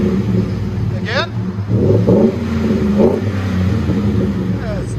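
Deep, steady idle from a 2013 Ford F-150 FX4's 5.0L Coyote V8 through a Magnaflow performance muffler, nearby and loud, rising in a couple of brief rev surges, with a voice speaking over it.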